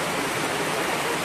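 Steady, dense rain pours down during an outdoor debut celebration where food is being cooked, a continuous close hiss with no pauses over the short stretch.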